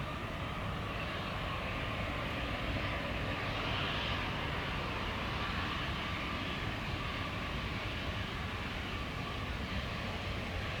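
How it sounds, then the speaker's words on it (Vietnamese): An EVA Air airliner touches down on runway 25R at Tan Son Nhat, heard as a steady, loud broadband roar of engines and rushing air that holds constant throughout with no voices. "Bây giờ chiếc máy bay đang nhanh chóng hạ cánh xuống đường băng 25 phải."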